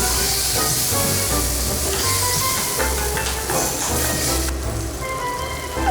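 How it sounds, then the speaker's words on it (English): Sweet and sour sauce from a jar is stirred through crispy chilli beef in a hot pan, giving a steady loud sizzle and hiss with scraping stir strokes throughout. "And again, we stir it up."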